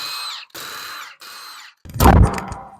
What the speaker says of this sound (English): We will loosen the wheel nuts.